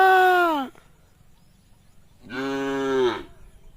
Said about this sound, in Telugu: అంబా అంటే అంబా అని అంటున్నారు చూసారా దాని అరపు ఎంత మంచి అనిపిస్తుంది